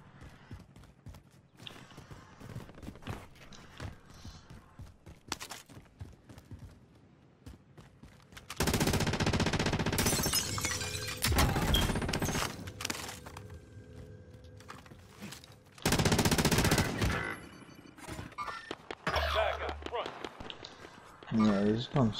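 Automatic machine gun bursts in a battle royale shooter match on the Rebirth map, loud rapid broadband volleys in several separate bursts mixed with other game sounds and player voice chat.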